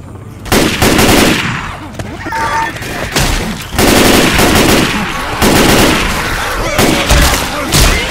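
Rapid gunfire in Left 4 Dead 2 erupts in loud, dense bursts of automatic shots with short pauses between volleys, close and harsh, with a voice briefly calling out amid the shooting.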